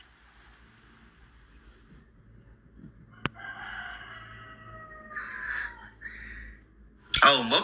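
A rooster crows partway through, a clear drawn-out call heard at moderate distance in a quiet room, preceded by a sharp click and followed by a sudden loud rustling burst at the end.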